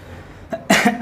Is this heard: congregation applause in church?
no